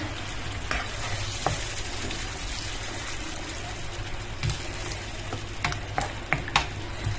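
Escabeche ingredients bubble and sizzle in a pan, a continuous close hiss with scattered clicks and pops. No one speaks.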